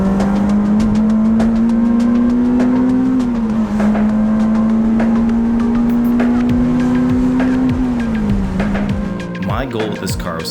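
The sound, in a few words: Honda EP3 Type R car engine revving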